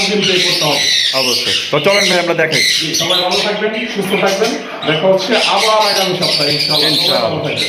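Harsh, loud squawks and screeches of ringneck parrots, including a lutino ringneck, close by, overlapping continuously with sharp calls and chatter throughout.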